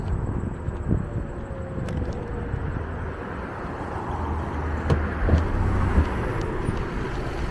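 A city bus on a Philadelphia street rolls past with a moderate, steady road rumble and engine drone, traffic noise around it and a few brief clanks, no talking.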